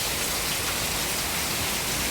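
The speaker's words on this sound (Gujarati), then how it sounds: "જો મિત્રો બૂમ પડાવી રહ્યો છે વરસાદ." Heavy monsoon rain pours down in a loud, dense, continuous hiss, close and without a break, with no voices over it.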